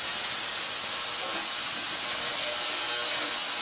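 A gas-powered lawn edger runs loudly and steadily up close, a harsh, unbroken roar with a hissing, airy edge and no pauses or talking.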